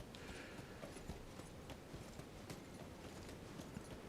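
A horse in Elden Ring trots with a steady, rhythmic clip-clop of hooves, soft and fairly faint throughout, with no talk.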